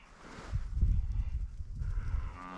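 A calf in a cattle pen breathing hard with a phlegmy, rattling sound, low rough exhalations repeating close by amid faint barn noise, no talking.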